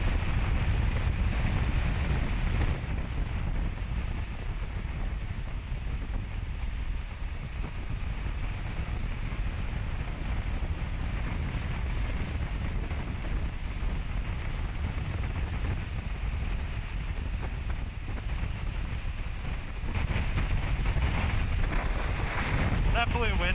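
Steady, heavy wind roar buffets the rider on a Suzuki GSX-8S naked motorcycle at road speed, loud and unbroken throughout with a slight surge near the end.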